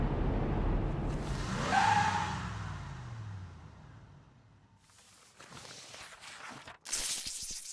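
Car driven by a small child in Five Nights at Freddy's: Security Breach, with loud engine and skidding tire noise that swells and fades over several seconds, followed by scuffing, clattering game sounds.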